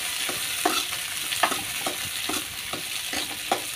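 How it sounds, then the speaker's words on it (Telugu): Green chillies sizzle and pop in hot oil for ivy gourd chutney, a steady close frying hiss punctuated by repeated sharp crackles and spatters roughly every half second, with occasional stirring. "పచ్చిమిర్చి దాంట్లో వేసేసుకుంటున్నానండి. దూరంగా ఉండాలి, పేలుతాయి. ఇట్లా బాగా వేగే వరకు వేసుకున్నాం"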